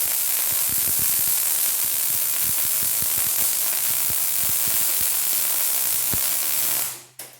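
A welding arc during rotary cutter repair in a welding shop gives a steady crackling sizzle like bacon frying, loud and continuous with scattered pops, cutting off abruptly near the end.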